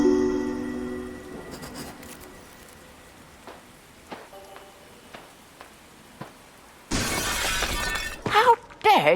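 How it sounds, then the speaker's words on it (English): A window pane smashed in the Arkham Horror game: a sudden loud crash of breaking glass after quieter scattered ticks, followed by tinkling shards falling and settling, with tonal game sounds earlier. "You smashed my window."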